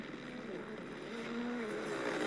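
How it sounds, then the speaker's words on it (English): A helicopter hovers above a WRC rally stage, its steady droning rotor and engine noise building slightly louder over a couple of seconds, with no voices over it. "is a helicopter racing them?"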